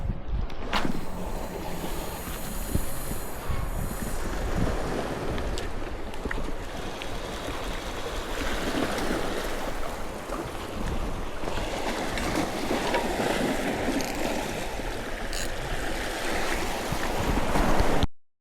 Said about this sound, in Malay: Ni, angin selatan masuk.